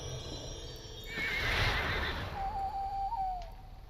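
A horse neighs loudly in the LOTRO online game, a shrill whinny rising then trailing off into a long thin tone, set over steady low game ambience.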